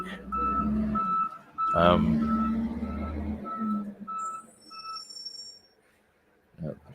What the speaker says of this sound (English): ravenously filling its maw with garbage, which is to say, a garbage truck